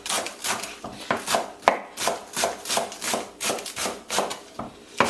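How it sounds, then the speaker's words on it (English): A knife rough-chops scallions on a board in a Caribbean-style kitchen, giving a steady run of close, crisp chopping strokes in quick rhythmic bursts, with no talk. "But here are a couple scallions. And that's gonna give everything pretty much a rough chop."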